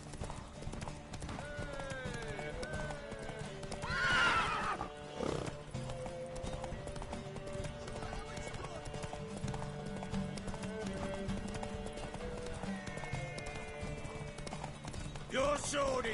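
Horse in The Witcher 3 video game, hooves pounding in a steady galloping rhythm with a brief whinny, set among game sound effects and background music while characters talk.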